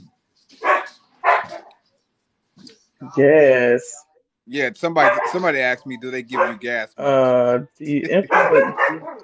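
A dog barks in short bursts and yips at the start, close by, then people talk over it while the barking carries on intermittently underneath.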